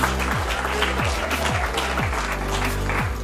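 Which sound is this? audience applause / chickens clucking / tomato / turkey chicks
audience applause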